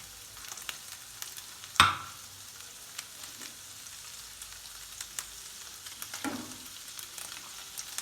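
Heart and kidney fry in a mix of vegetable oil and butter with a steady, soft sizzle that runs throughout, broken by a sharp clink near the start and a brief scrape of stirring later on.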